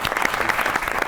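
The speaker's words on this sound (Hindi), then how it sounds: "ताली होनी चाहिए।" A studio audience at a comedy talk show applauds with dense, steady clapping throughout the short moment, fairly close and with no talk over it.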